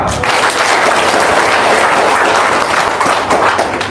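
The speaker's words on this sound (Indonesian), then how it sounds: "Tepuk tangan dong." An audience claps in a dense, steady burst of applause that fills the space for a few seconds, loud and close, tapering slightly at the end.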